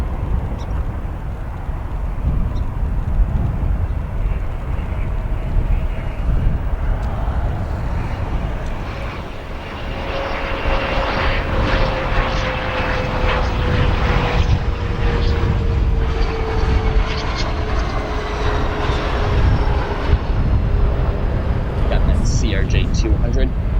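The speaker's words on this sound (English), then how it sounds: "CRJ-200, one of the smallest aircraft in United fleet currently" A United CRJ-200 regional jet at Chicago O'Hare airport, a continuous loud jet engine roar with a slowly falling whine as it passes, under a speaking voice.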